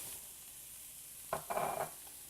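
Eggplant and zucchini pieces dropped into a pan with softened onions give a brief burst of close, bright sizzling after a quiet start, then fade back to low background hiss.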